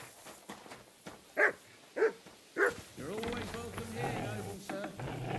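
Three short, sharp dog barks from Kingdom Come Deliverance II ring out close by in quick succession, followed by a steadier stretch of game ambience with a voice talking over it.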